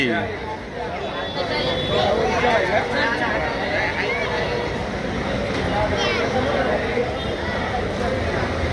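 Crowd of travellers bustling through a busy station, a dense, continuous hubbub of overlapping chatter and footsteps filling the space at steady loudness.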